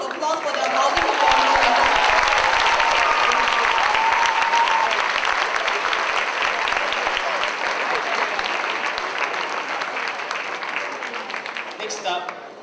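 Long, loud applause from a concert audience for a Chinese orchestra after a performance at a school arts festival, dense clapping with a few cheers that slowly fades near the end.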